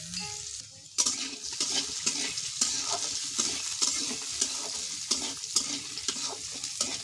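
Food fries in hot oil in a home kitchen while it is stirred, a steady crackling sizzle with repeated scraping and stirring knocks, loud and close.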